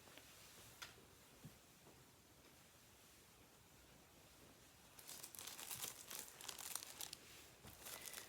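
Sheets of patterned designer paper rustle and crinkle faintly while being handled for a papercraft box. After a near-silent stretch, a few seconds of soft, close crumpling and rustling follow.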